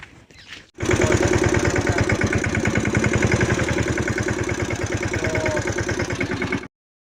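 A tractor engine chugs loudly and steadily with a fast, even diesel pulse as it reverses on a farm, starting abruptly after a brief quieter moment and cutting off near the end.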